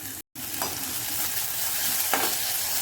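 Ginger garlic paste sizzles in hot oil as it is stirred for a soya tikka biryani masala, giving a close, even frying hiss with a few scraping strokes and a momentary silent gap near the start.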